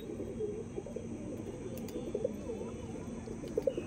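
Andhra Madrasi pigeons coo softly in a loft, low repeated burbling calls layered over a faint steady background hum, with occasional brief clicks.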